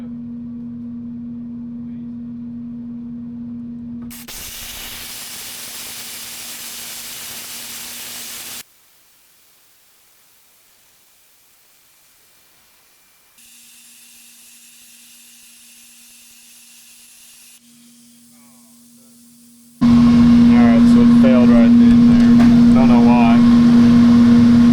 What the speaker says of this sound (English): So we'll just start on the edge and cut our circle there, and that'll be the base of our die.